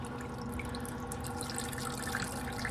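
Coolant trickles slowly out of a Duramax LML radiator, a faint, continuous soft patter of dripping liquid, quiet and close, with no voices.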